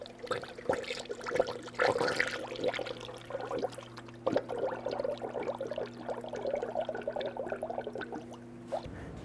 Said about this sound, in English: Now I'm going to go ahead and fill up our radiator with the manufacturer specified coolant.